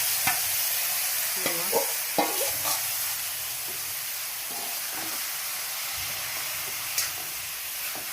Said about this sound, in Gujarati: આ રીતના આપણે દૂધીને શેકી લઈશું